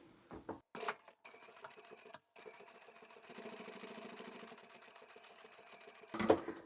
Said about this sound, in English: we'll go back to the machine, we'll sew that